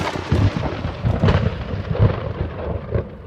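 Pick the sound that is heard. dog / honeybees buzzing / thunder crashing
thunder crashing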